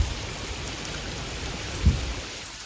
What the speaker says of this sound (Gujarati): અહીંયા જો વરસાદ ભાઈ ચાલુ થઈ ગયો છે